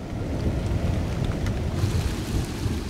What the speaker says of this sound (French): La pluie qui s'abat maintenant sur les brûlis commence à entraîner avec elle les cendres et les débris végétaux.